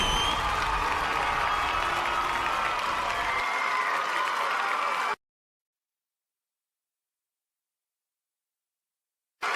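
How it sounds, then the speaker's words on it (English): A large crowd cheers and applauds loudly for about five seconds, a dense steady wash of clapping and shouts that then stops, leaving silence. "The crowd went wild"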